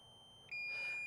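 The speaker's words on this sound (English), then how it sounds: "you're going to hear the battery or the controller beeping at us" DJI Mini 2 drone battery or controller beeping: a single high, thin electronic beep that starts abruptly and holds steadily over faint background hum, fairly quiet and close.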